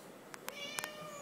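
A young child imitates a cat with a few short, high meows, about four quick squeaky calls spaced over a second, quiet and close against a faint background.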